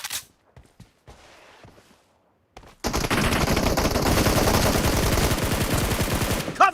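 Rapid automatic gunfire in PUBG Mobile, a few faint scattered shots at first, then a loud, dense, sustained burst of machine-gun fire lasting several seconds.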